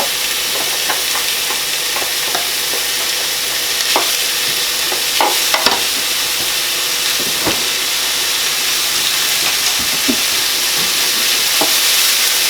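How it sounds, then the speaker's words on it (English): Minced beef browns in a hot, dry pan with no oil for a spaghetti bolognese, sizzling steadily and loudly up close while a spoon scrapes and stirs now and then. "I'm just going to brown the meat off."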